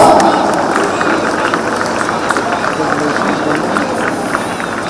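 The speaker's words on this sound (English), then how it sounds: "Give them a big round of applause." Crowd applause and cheering at a school's annual sports meet after a relay race, a steady dense wash of clapping and crowd noise that holds loud throughout, with some voices mixed in.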